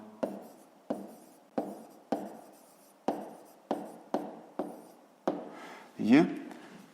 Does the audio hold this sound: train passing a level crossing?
no